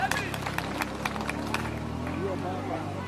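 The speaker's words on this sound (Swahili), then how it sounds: "Wapigeni makofi." Audience applause at a public gathering in Tigania, Meru: scattered clapping with crowd babble over a steady hum of a live event, sharp claps spread through the crowd.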